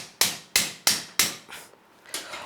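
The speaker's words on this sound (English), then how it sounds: "Still I can hammer little more." Hammer strikes on a metal sleeve during a repair, four sharp, evenly spaced blows at close range followed by a softer tap and a final hit.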